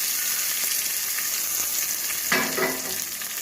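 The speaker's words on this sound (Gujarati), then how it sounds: "અને હવે આપણે આ વઘારને ચટણીમાં નાખી દઈશું।" Hot tempering with curry leaves is poured into mint chutney, bursting into a loud sizzle partway through that fades into steady crackling frying noise, with no talk.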